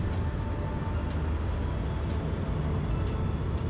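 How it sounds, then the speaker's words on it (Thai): A continuous low rumble of an empty special express train running on the Red Line mainline overhead, heard from a lower station floor, steady and muffled, with no talking. "เราได้ยินเสียง เหมือนมีขบวนรถไฟ วิ่งอยู่ด้านบนนะครับ"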